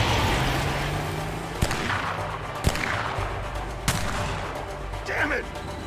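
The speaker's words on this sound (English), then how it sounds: "I'm shooting!" Gunfire in the video game A Way Out crackles as a few sharp, separate shots over a rumbling car-chase background, with voices in the mix.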